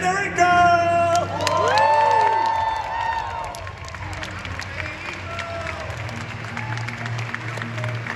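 Crowd applause and cheers for a junior video game finalist at the Pokemon Europe International Championship, loud at first with whoops and shouts over a background tone, then fading to scattered clapping and hall murmur.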